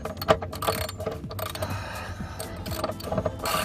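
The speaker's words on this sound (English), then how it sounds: "Alright, then get the ratchet." A ratchet tightens a plastic oil drain plug on a BMW F10 528i, with rapid clicking pawl bursts and small metallic mechanism sounds close by, fairly quiet.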